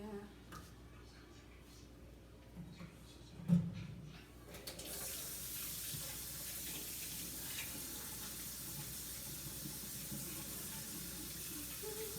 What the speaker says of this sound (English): And of course, not to forget, wash our hands.